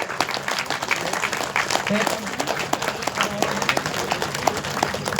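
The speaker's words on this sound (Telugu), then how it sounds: "ఈరోజు తొలి ఏకాదశి, ఒకసారి గట్టిగా క్లాప్ చేసుకుందాం" Audience clapping at a gathering for a speech by head Varma on the Toli Ekadashi festival day; dense, sustained applause fills the whole stretch, with a voice talking over it.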